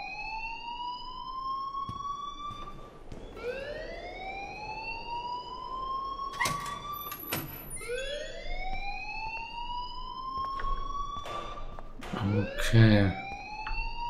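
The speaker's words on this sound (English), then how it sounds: "please turn off that alarm" Alarm in Life Is Strange wailing in repeated rising sweeps, loud and insistent, with brief speech and other game sounds around it.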